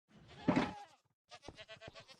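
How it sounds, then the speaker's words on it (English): Screaming goats in the Minecraft video game let out two short, harsh bleats, a loud strained cry followed by a stuttering, broken one, close and clear with no talk. "I finally have a herd of screaming goats."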